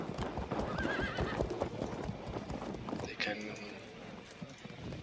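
Light horse cavalry moving in the strategy game Field of Glory 2, a quick clip-clop of hooves with a whinny, partly under someone talking.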